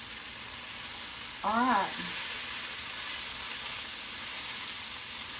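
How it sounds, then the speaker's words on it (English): Ginger sizzling and being stirred in a chicken stir fry pan with fish oil, a steady frying hiss throughout, interrupted by a short spoken word. "I'm stirring that ginger up in it"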